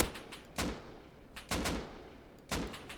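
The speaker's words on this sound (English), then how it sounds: "I'm using here the AK as a sniper rifle now" AK rifle shots in Rust fired one at a time as if sniping, four distinct loud cracks at spaced intervals, each followed by a short decaying echo, with no talking.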